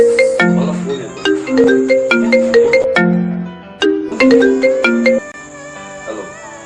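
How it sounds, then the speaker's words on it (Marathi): A mobile phone rings loudly and close with a bright melodic ringtone that plays twice, with a short pause between, for an incoming call. "मला फोन येतो."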